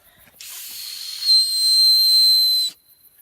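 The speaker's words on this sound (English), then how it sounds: "Blow the safety whistle!" A single long, shrill whistle blast with a hissy edge, starting abruptly and cutting off after about two seconds.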